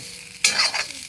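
Maggi noodles and ingredients stirred in a pan: after a brief quiet moment a sudden scraping, sizzling burst of stirring sets in, close and fairly loud, with no voices.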